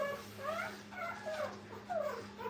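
Nursing puppies at a kennel let out a few thin whimpers and squeals, quiet and close, over a constant low hum.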